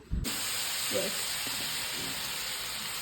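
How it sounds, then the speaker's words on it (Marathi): Dosa batter hits a buttered hot pan and a sharp, steady hiss rises at once, then continues as a close, even sizzle for a few seconds. "मी आता बटर टाकले बघा पॅन मध्ये. आपण डोस्याचं बॅटर टाकू."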